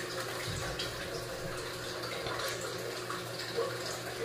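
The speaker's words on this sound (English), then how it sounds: "He's sitting in his water dish." Dumeril's monitor lizard shifting in its water dish, giving a steady close wash of splashing and sloshing water with a few slightly louder swishes, no talk.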